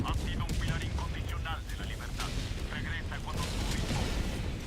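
Mortar fire in Helldivers 2 during a livestream: repeated heavy booms and crackling blasts roll together in a dense, ongoing barrage while someone talks over the combat.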